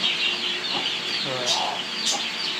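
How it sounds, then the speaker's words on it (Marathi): Chickens and young chicks perched inside a farm shed cluck in short, scattered calls, fairly close and steady against a soft background hum. "आपले दोन कोंबडी बघा ही पिल्लं ही पिल्ल आता इथे आतमध्ये शेडवरती बसलेली आहे"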